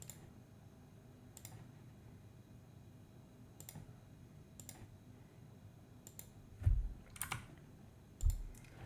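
Computer mouse clicks while drawing joined lines in Autodesk Forma 3D modelling software, sharp isolated clicks spaced a second or so apart, close and quiet, with a couple of louder bumps near the end.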